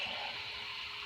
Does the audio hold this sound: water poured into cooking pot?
yes